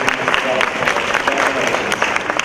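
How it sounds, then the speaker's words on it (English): An audience at a school anti-bullying assembly applauds, a steady dense patter of many hands clapping together, close and sustained throughout with no pause. "So everyone, if you can give her a big round of applause."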